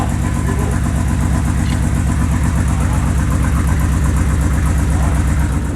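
The engine of a 1965 Rambler Marlin runs on its first startup, a loud, steady, close idle with an even rhythmic pulse and no voices.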